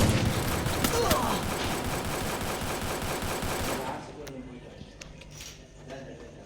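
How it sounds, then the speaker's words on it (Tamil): Gunfire rattles in rapid, dense bursts during Free Fire gameplay, then thins to a few scattered shots, all under someone talking. "இப்போ ஸ்னைப்பர் தான் போடுறோம்"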